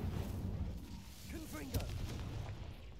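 Fire spell cast in the video game Hogwarts Legacy near a gatehouse, a short whooshing burst with one sharp crack over a steady rumbling game background, while a voice speaks the incantation.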